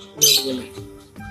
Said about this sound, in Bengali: বাড়ির সামনে একটা টিয়া পাখি এসে দেখ সুন্দর ডাকছে আওয়াজটা শুনতে পাবে